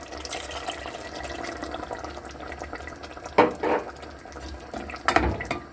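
Water poured into a cooking pot of tomato and green bean stew, a running, splashing stream with a couple of louder gushes and clatters near the end.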